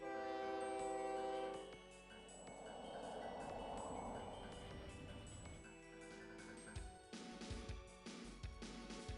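Trains moving and stopping at signals in the video game OpenTTD, with a horn tone fading into a softer rumble, then rhythmic clatter and thumps toward the end, no voices.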